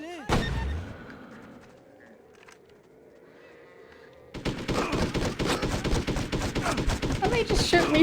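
Gunfire in the 2002 video game Hitman 2: Silent Assassin: a faint opening shot, then after a quiet stretch a dense, loud rattle of rapid shots continuing to the end.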